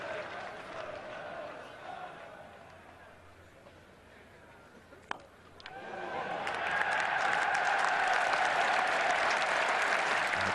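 Applause swells from a capacity crowd of about 30,000 at a 1993 Benson & Hedges Cup final cricket match between Derbyshire and Lancashire, building into loud, sustained clapping after a quieter stretch with a single sharp knock.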